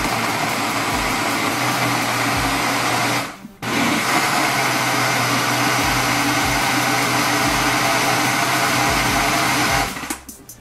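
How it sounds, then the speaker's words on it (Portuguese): Kitchen blender whirring loudly as it blends homemade pizza tomato sauce with extra virgin olive oil, a steady high-speed drone that cuts out briefly once, then restarts and runs on before stopping near the end. "Vamos fechar o nosso liquidificador"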